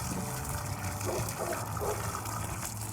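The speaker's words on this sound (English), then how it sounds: "When watering my tomatoes, I try to water at the base," Garden water running onto the base of tomato plants, a continuous close hiss and trickle of flowing water with no talking.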